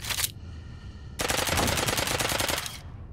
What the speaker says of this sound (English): MP5. Sounds exactly as you'd expect.